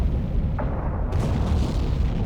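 Depth charges explode in the Silent Hunter 3 submarine game, heard as a faint, far-off low boom and rumble under a steady background drone, with a brief thud partway through.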